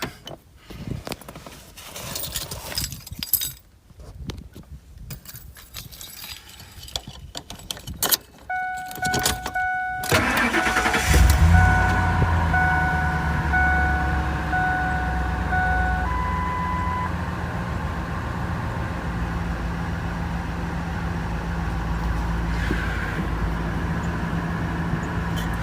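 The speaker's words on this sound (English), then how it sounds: "Let's start the truck up." Keys jangle briefly, then a 1998 Ford Expedition engine cranks and catches, settling into a steady rumbling idle with a faint chime beeping over it.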